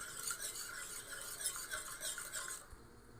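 A milk and custard powder mixture with sugar is stirred in a pan as it cooks, giving a quiet, rhythmic scraping swish that repeats several times before stopping abruptly with a small knock.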